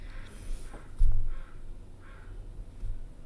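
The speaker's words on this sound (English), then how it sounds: "You can hear the crows in the background." Crows caw outdoors, a few short, faint, distant calls spread apart over a quiet background, with one dull thump partway through.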